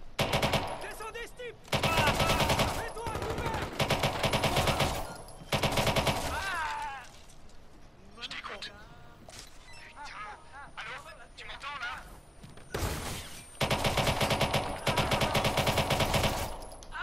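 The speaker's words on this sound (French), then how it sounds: "Il y a des coups de feu." Bursts of rapid automatic gunfire in repeated volleys from Watch Dogs 2, loud and close, with quieter gaps and talk between them.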